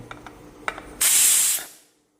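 Pressure cooker cooking rice lets out a loud, steady hiss of escaping steam for about half a second, following a few faint clicks, then the hiss fades away.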